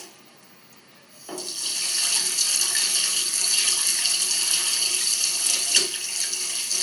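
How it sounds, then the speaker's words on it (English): Running tap water splashes steadily over fiddleheads in a sink after a quiet start, a continuous close gushing with small shifts in the flow. "before I blanch them, I want to give them one more rinse."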